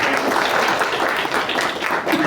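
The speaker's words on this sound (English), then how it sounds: "Please give a round of applause." Steady audience applause at the close of a talk on designing economies, dense even clapping from a crowd that holds level for a couple of seconds with no voices over it.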